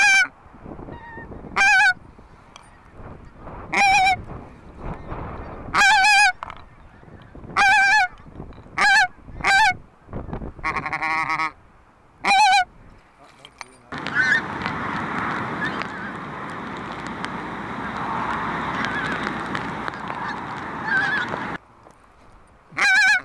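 Greylag geese honk in the Scottish Highlands during a decoying goose shoot, repeated loud, clear honks in bursts, some close, with a longer stretch of dense overlapping calling and flapping noise midway.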